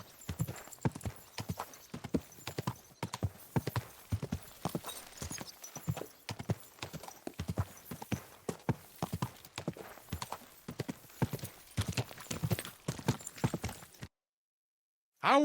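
Steady clip-clop of horse hooves at a brisk trot in the video game Kingdom Come: Deliverance II, fairly close and continuous for about fourteen seconds, then stopping abruptly into silence.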